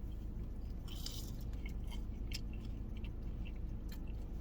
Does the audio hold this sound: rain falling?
no